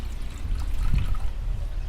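Water is poured into a bowl of spiced gram-flour mixture for patra, colocasia leaf rolls, making a short, close, gurgling splash with a low rumble, about two seconds long, with no voices.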